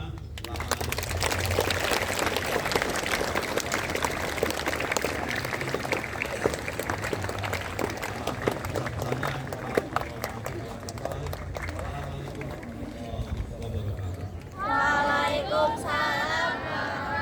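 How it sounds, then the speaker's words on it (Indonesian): Applause from a crowd at a Scout Day school ceremony, a long stretch of scattered clapping and crowd noise that carries on, with voices and a brief livelier burst toward the end. "tepuk tangan untuk kita semua"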